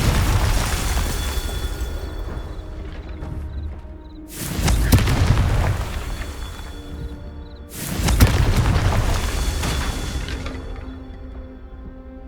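Two heavy booming blasts from the Confringo fire spell in Hogwarts Legacy, each a sudden loud burst with a long rumbling decay, separated by a few seconds over a low droning game backdrop.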